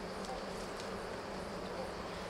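A dense, steady buzz of many black honeybees hums close by at a hive, continuous and fairly quiet, with no talking.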